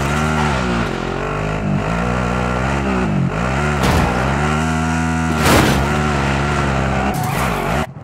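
A car drives in Call of Duty Warzone, its engine droning loud and steady throughout as it revs up and down with shifting pitch, with occasional bumps and scrapes over the top.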